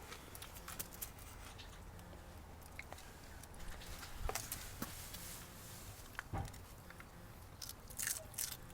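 Close, crisp crunching bites into fresh snow peas repeat irregularly over a soft background, with sharp snaps standing out now and then.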